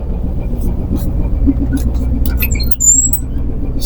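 A ship's engine runs with a steady, heavy low rumble beneath people talking, with brief squeaky electronic chirps over it.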